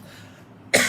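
A single sharp cough from a man partway through a Malay spoken-word recital, loud and close after a quiet room tone.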